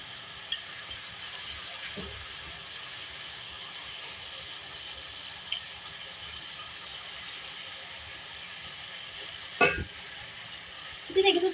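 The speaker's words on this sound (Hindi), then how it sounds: "इसी तरीके से उसको हम फ्राई करेंगे लहसुन के साथ" Beef for tinda gosht fries with garlic and ginger paste in a pan, a steady soft sizzle that continues throughout, with occasional spoon clinks and stirring knocks near the end.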